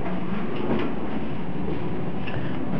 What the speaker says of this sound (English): Train engine starting up.